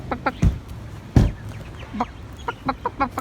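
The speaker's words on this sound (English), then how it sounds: "There's chickens everywhere." Several chickens cluck in short bursts close by, with a few louder thumps and scuffles in between against a faint background hum.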